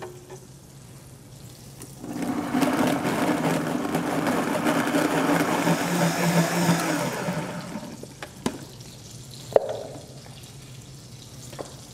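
A blender purees onion, garlic and toasted spices with a little hot water. A steady, loud whirring churn runs for about six seconds, then winds down, with faint clicks and clatter after it stops.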